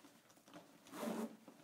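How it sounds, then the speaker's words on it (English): The zipper of a Stearns Driflex drysuit is pulled closed, heard as a faint, close, rough rasp that grows to a short louder stretch and then fades. "Hold the zipper and then close it. This zipper mashes together, forming a nice tight seal"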